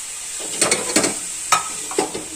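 Chopped capsicum is stirred into chicken masala sizzling in a pan, a steady fry hiss under a few soft scraping stirs of the spoon, close up.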